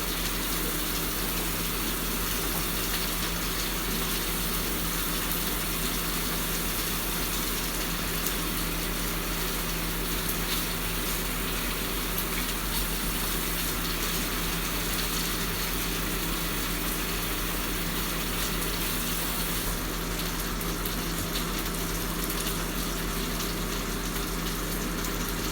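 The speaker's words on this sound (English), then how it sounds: "Wash my fingers real good." Running tap water pours steadily for the whole stretch while someone washes their fingers in a home kitchen during cooking, a continuous close gushing with no talk over it.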